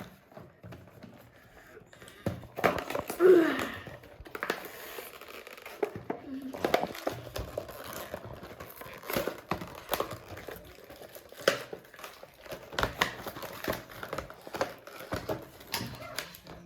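Plastic packaging of an Akedo battle toy crinkles and tears in irregular bursts, close by, with scattered clicks and rustles and a few brief moments of quiet between handling.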